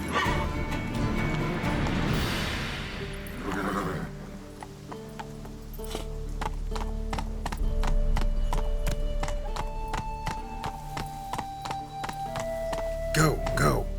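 Roach, a horse in the video game The Witcher 3, gallops with steady clip-clop hoofbeats, joined by a brief whinny and thudding impacts, set against layered game music and a voice calling out.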